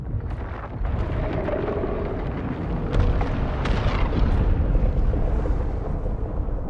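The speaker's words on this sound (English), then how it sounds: "is that a spice explosion?" A spice explosion in the Dune Awakening video game, a deep, sustained rumbling roar with scattered crackling bursts that builds slightly and holds loud for several seconds, with no speech.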